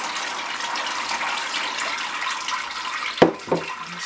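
Rhubarb wine strained through a sieve, a steady close splashing pour of liquid that ends in a couple of soft knocks, with no voices.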